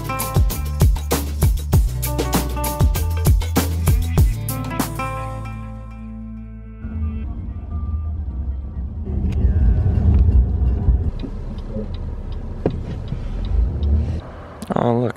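Car interior on the road toward Colorado Springs in snowy weather, a steady low engine and road rumble running throughout, with music and voices heard over it in the first few seconds.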